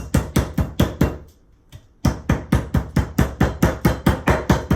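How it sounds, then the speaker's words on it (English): Repeated heavy thuds of a meat mallet pounding chicken thighs, a fast steady rhythm with a short pause before the pounding resumes, close and loud. "I have my little mallet here with the divvies in it, and I am going to just tenderize this."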